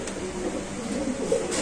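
Pigeons held for sale at a pigeon market give soft, low cooing in a steady murmur with no talk over it.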